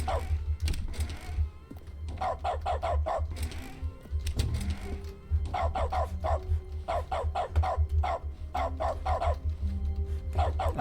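Dog mode in The Stanley Parable video game brings a dog barking in repeated quick bursts of yaps and woofs, moderately loud and steady over a low droning hum that runs throughout, with brief whimpers between bursts.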